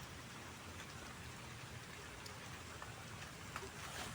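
Light drizzle falls outside a house, a faint, even hiss of fine raindrops that holds steady throughout, with a few soft, slightly louder patters near the end.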